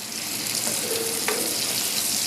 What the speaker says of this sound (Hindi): ये घी का बघार बड़ा अच्छा लगता है